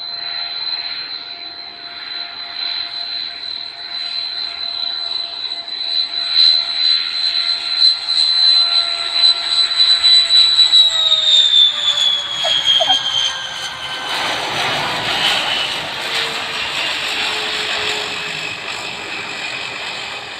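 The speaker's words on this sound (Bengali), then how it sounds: "বিমান কিন্তু কুচবিহার এয়ারপোর্টের দিকে ল্যান্ড করছে" A large airplane lands at Cooch Behar airport, its steady jet whine sliding lower in pitch as it passes, then giving way to a broad, loud engine roar that holds to the end, with no talking.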